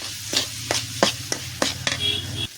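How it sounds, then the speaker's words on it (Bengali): Greens are stirred in a frying pan, a spatula scraping through the wilted leaves in about six quick, evenly spaced strokes over a low steady sizzle, close up with no talking. "এখন আমি দেখে নিতেছি লাড়া দিয়ে এটা আমার হয়েছে কিনা"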